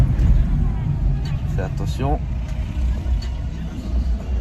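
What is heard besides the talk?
Renault Clio 4 car driving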